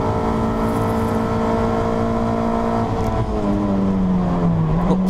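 Toyota MR2 race cars at Anglesey circuit roar past in a continuous loud engine drone, pitch shifting downward as one car passes and another follows, with no talk over the sound.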